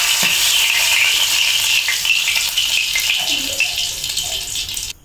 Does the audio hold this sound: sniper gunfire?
no